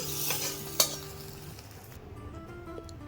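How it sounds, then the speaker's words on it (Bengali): Fried cashews and raisins in hot ghee poured into boiling payesh, a Bengali rice pudding: a sharp clink of a pan or spoon, then a soft bubbling sizzle and a light scrape that fade to a quiet simmer. "ফুটন্ত এই পায়েসের মধ্যে আমি ভেজে রাখা কাজু কিশমিশগুলো ঘি সহ পুরোটাই ঢেলে দেব"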